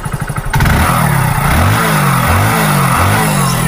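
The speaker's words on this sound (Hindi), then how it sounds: "जैसे हम एक्सीलेटर लेंगे तो इंजन पे लोड पड़ेगा" Motorcycle-type engine revving as the accelerator is pressed while an OBD scanner reads a BS6 engine under load, loud and close: a few sharp idle clatters give way to rising and falling throttle surges.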